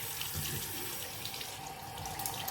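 Tap water runs steadily into a sink while a face is rinsed with lukewarm water, a soft, even splashing stream heard close up with no talking.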